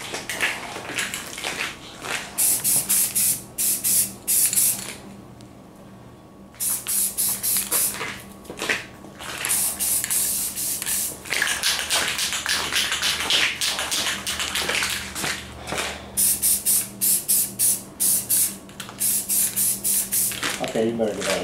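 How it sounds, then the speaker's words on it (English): Rattle-can spray paint hisses in repeated bursts onto a go-kart frame, close and loud, with short pauses between passes and someone talking at moments. "So that's how you paint a go-kart with rattle can paint."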